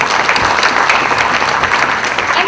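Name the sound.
applause from the audience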